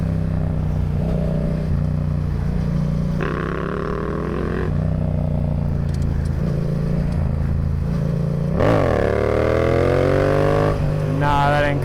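A motorcycle in third gear attempting a wheelie holds a loud steady engine drone, then revs up sharply with rising pitch near the end, heard close and continuous without speech.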